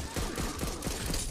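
Rapid bursts of gunfire fill the scene in the co-op zombie shooter Back 4 Blood, a dense, continuous fusillade at steady loudness with no talking.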